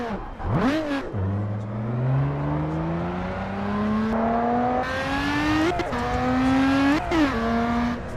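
A Lotus Exige V6 Cup in a racing game revs hard through the gears, the engine note climbing steadily and dropping sharply at each upshift, including an abrupt skipped shift, loud and continuous without talk.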